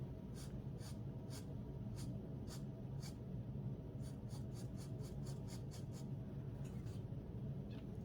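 Five Below illustration marker with a chisel nib gliding across paper in a steady, close scratchy rub, with repeated short strokes throughout and a low room rumble underneath.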